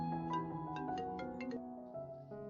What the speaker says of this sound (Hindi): ये ज्योति भी ना बार बार फोन करके परेशान कर रही है।